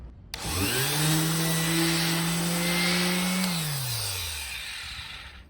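A cheap $10 electric sander works framing lumber: its motor whirs up quickly to a steady buzzing whine, holds for about three seconds, then winds down with a falling pitch. No voices are heard.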